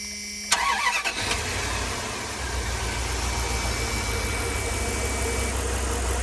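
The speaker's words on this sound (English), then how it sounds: "Let's go ahead and start the van and see what we read." A Dodge van's Magnum V8 (5.2 or 5.9 litre), under test for a clogged catalytic converter, cranks and fires up with a brief rising roar, then settles into a steady, close, continuous idle rumble.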